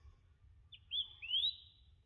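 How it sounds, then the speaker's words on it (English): Birds call in still, windless bushland in a South Australian conservation park: a few thin, rising whistled notes in quick succession over a low rumbling background, moderately faint. "Birds are calling."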